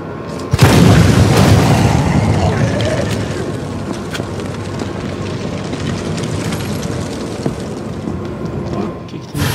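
A deep, booming explosion in the Resident Evil 3 Remake Raccoon City demo erupts loudly near the start, then a rumbling roar trails off and settles into sustained game noise for several seconds.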